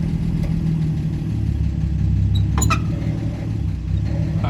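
A 125-year-old car's engine runs steadily and loud, a continuous low rumble close by, with a brief clunk as it is put into gear; no one speaks.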